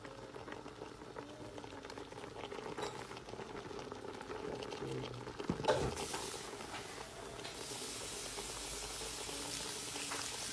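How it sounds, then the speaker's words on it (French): Meat cooking in a pot with about one and a half onions, salt and oil, heard as a continuous close bubbling and sizzling with a brief louder clatter midway and no talk. "je viens de mettre la viande au feu avec environ un oignon et demi"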